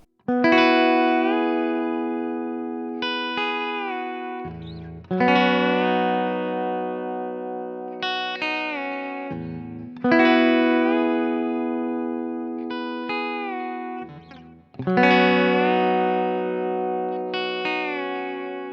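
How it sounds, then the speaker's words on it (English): Sustained Telecaster electric guitar chords ring out one after another, each bent upward in pitch with a B-bender, with a chorus-like effect and long decays. "I have learned a couple of little things, like bending chords up."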